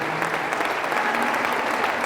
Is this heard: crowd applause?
yes